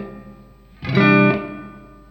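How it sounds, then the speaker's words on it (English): An electric guitar chord rings through a Fender Tre-verb amplifier with the reverb dwell at minimum, a single loud strummed burst with a slightly distorted, effected tone that decays quickly with only a short tail, no voices. "So this dwell controls how long the reverb tails are."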